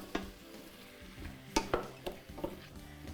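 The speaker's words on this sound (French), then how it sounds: "OK, mélange le tout." A spoon stirs a chickpea mixture in a pot, giving a few soft scrapes and clinks spaced over a low background hiss, with no talking.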